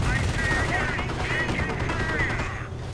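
Sustained MG42 machine gun fire in a World War II strategy game, a dense continuous burst lasting nearly three seconds that drowns out lighter battle noise before cutting off near the end.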